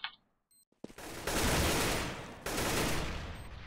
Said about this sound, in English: Chamis gets the frag onto PKL.